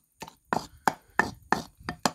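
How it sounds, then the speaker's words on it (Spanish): Roasted tomato being ground in a stone molcajete: seven distinct grinding strokes in an even rhythm, each a short gritty crunch of pestle on stone, close and clear with silence between. "le voy a echar en el molcajete, le voy a quitarle la piel, ¿sí? Empezar a moler bien bien,"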